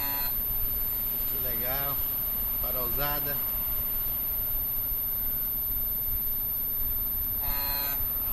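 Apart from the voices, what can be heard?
Peterbilt truck horn honking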